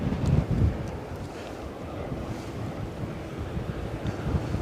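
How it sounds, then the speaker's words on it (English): Strong, gusty wind buffets the microphone at Edinburgh Airport, a steady low roar with heavier gusts near the start and end, loud and continuous with no talk. "Ash, a tad breezy."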